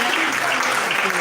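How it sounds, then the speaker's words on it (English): Audience applause at a women's festival celebration, a dense burst of clapping filling the room, loud and steady throughout the brief moment. "A round of applause for her."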